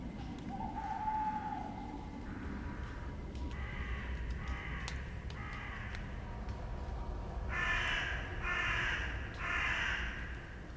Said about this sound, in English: The crows shattered the silence